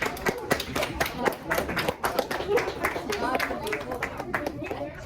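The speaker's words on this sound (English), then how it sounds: "A round of applause," Audience clapping at a science show, individual hand claps in a fairly rhythmic, moderately sparse pattern with voices and chatter mixed underneath.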